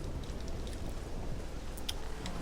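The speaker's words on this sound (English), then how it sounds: "Raining in sheets." Heavy rain pours down steadily in a dark, stormy Vvardenfell in the Morrowind video game, a continuous hiss of rainfall with faint intermittent droplet ticks and no voices.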